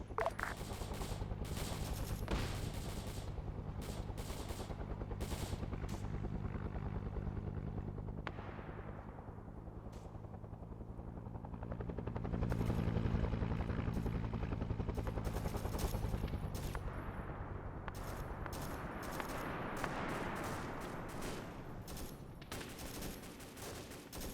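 Sustained gunfire and rattling bursts aimed at a helicopter inserting reinforcements during an Arma 3 battle with incoming artillery, steady and loud throughout the clip with a low rumble underneath and occasional sharp reports.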